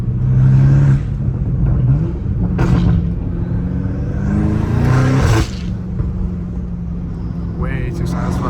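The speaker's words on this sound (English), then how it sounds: "those turbo sounds are next" A straight-piped BMW M5 Competition revs and accelerates, its loud rumbling exhaust rising and falling in short surges with whooshing turbo sounds, heard up close and dropping to a lower drone toward the end.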